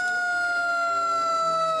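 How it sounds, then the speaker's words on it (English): A fire engine siren sounds during a parade, a loud, sustained wailing tone held close by for the whole brief moment. "it's so cool to have a day where my heart doesn't sink when I hear these sirens"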